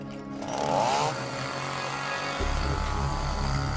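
A gas-powered chainsaw engine revs and drones steadily, rising to a louder, heavier roar partway through, running continuously without speech.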